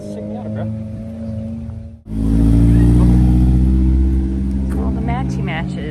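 A supercharged Mazda Miata engine cuts in after a brief lull and revs loudly up close, a deep steady roar that eases slightly, while people chat nearby.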